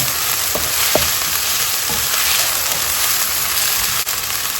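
Minced pork and shrimp stir-fried in a hot pan for a spicy curry-paste dish, a loud steady sizzle with scraping stirs of the spatula, close and with no talking.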